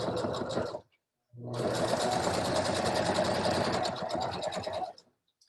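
Sewing machine stitching a stocking runs in a loud, steady whir, pausing briefly near the start and then driving on continuously for about three and a half seconds before stopping.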